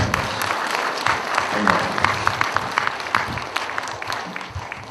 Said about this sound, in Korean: 오늘 이 수련회를 인도하신 하나님께 영광의 박수 하겠습니다.